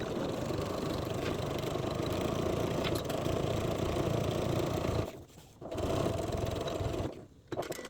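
A sewing machine stitches a 3/8-inch seam across the top of a fabric pocket, a fast steady whirring hum that stops abruptly twice for short pauses before starting up again.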